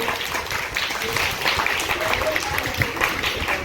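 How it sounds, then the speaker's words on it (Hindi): A group claps hands together at a youth workshop of games and fun activities, a steady mass of applause rising and falling with scattered voices mixed in. "जी ताली बजाइए, सबने ताली बजाइए।"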